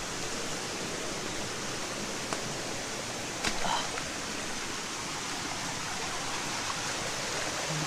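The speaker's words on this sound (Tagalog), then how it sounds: "May maliit na talon guys." Small waterfall pouring steadily, a continuous dense rushing wash of falling water heard close and moderately loud, with a couple of brief knocks partway through and no talk.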